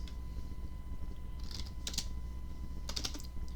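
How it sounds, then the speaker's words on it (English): Quick bursts of typing on a computer keyboard clatter faintly in a quiet room, a few short clusters of key clicks separated by pauses over a low steady hum. "I won't bore you guys with my typing"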